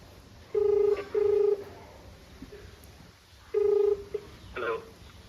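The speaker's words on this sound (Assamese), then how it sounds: "ফোনটো কৰি চাওক" A phone number is dialed for a prank call, with three loud, clear keypad tone bursts in two spaced groups over quiet room noise and faint background sounds.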